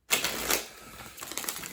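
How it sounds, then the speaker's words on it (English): A deck of tarot cards is shuffled by hand with a quick riffle of clicking, ticking card edges, then a softer, looser flutter of cards, close and fairly quiet with no talk. "Let's do another clean shuffle here."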